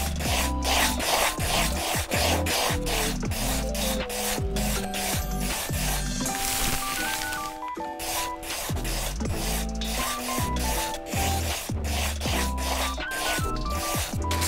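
Paper being folded and creased for an origami cicada, close crisp rustling and scraping strokes repeating in a quick steady rhythm, with short crackles between, no talking.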